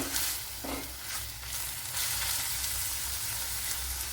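Onion and ginger fry in coconut oil for Onam sadya puli inchi, giving a continuous close sizzle with soft stirring. No one talks over it.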